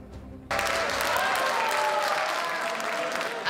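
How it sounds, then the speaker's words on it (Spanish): A packed Chamber of Deputies erupts in sustained applause after a quiet opening, the clapping loud, dense and steady to the end. "Aplausos que por tercera vez se repiten en la Cámara de Diputados."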